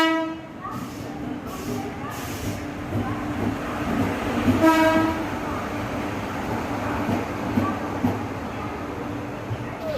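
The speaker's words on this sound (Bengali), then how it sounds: "আমরা ট্রেন ঢুকতে যাচ্ছি" The 12842 Coromandel Express passenger train from Visakhapatnam rumbles close by with a steady heavy roll, and a horn sounds in the middle.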